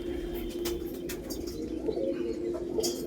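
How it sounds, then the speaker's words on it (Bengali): Andhra pigeons coo softly in repeated low, rolling phrases at close range, with faint chirps and light background rustle around them. "একটু জুম করে দেখানোর চেষ্টা করছি আপনাদের পায়রা"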